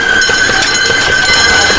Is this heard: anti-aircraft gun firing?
no